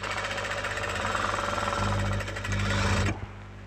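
A sewing machine runs continuously, double-stitching a blouse sleeve with a fast, loud mechanical rattle and a low motor drone that steps up partway through and stops abruptly near the end.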